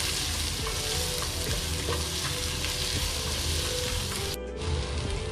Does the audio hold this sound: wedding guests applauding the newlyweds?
no